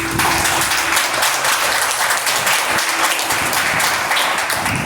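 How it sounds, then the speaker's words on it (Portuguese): A prayer group gives a loud round of applause, dense continuous clapping from many hands filling the room, close and sustained with no voices breaking through. "A salva de palmas para a Virgem Maria."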